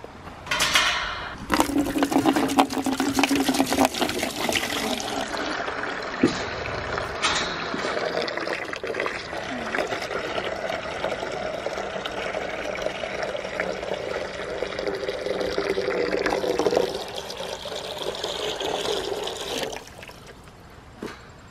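Water runs steadily into a gallon jug, a continuous pouring and filling rush lasting most of the stretch before cutting off, close and fairly loud.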